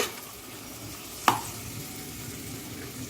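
Vegetables fry with garam masala for veg pulao, giving an even, close sizzle with one sharp clink of a spoon against the pan partway through, and no voices.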